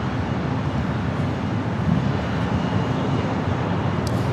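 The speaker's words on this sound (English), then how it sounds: "That's the flight coming in from Seattle." A jet airliner arriving at LAX from Seattle, a steady broadband engine roar heard from outside at the airport, constant and moderately loud with no talking.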